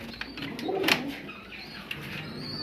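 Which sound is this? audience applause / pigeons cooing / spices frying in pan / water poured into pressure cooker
pigeons cooing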